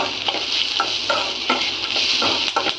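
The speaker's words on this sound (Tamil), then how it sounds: "கருவேப்பிலை ஆட் பண்ணிட்டு ஒரே ஒரு மிளகா காரத்துக்காக யூஸ் பண்ணுறேன்" Onions and curry leaves fry in a pan with a steady, close sizzle, broken by repeated stirring scrapes in an irregular rhythm, with no voices.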